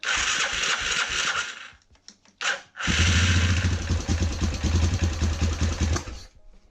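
An ATV with a broken electric choke cranks briefly, then catches and runs, settling into a loud, steady, throbbing idle close by.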